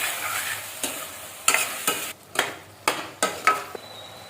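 A spoon stirs a curry of ridge gourd, brinjal and egg seasoned with salt and turmeric in a pan, sharp scrapes recurring about every half second over a low, continuous sizzle.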